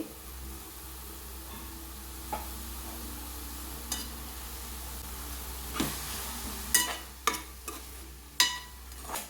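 Onions and tomato fry in a pan while being stirred, a low constant sizzle over a hum, punctuated by sharp spatula scrapes that grow louder and more frequent toward the end; no voices.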